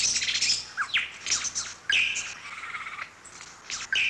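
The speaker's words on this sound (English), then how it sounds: "The lyrebird can imitate the sound of other birds, or for that matter, even a chainsaw." A lyrebird gives a varied run of bright, rapid bird calls and whistles, shifting between chirps and trills, sounding fairly close with no voices.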